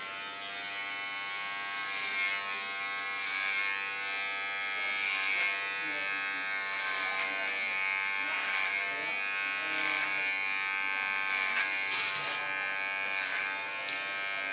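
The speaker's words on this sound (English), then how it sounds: "This I do clipper over comb because then I can control the line a lot better." Electric hair clipper buzzing steadily as it cuts hair clipper-over-comb during an ultra-short pixie haircut, a close continuous hum with small shifts in pitch and loudness as it passes through hair.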